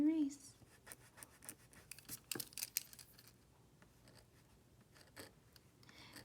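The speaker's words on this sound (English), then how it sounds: "I'm going to erase." Faint scratchy rubbing of an erasable pen's eraser against paper while correcting a circumference calculation, quiet, irregular strokes in short bursts, close to the microphone with a soft room hum beneath.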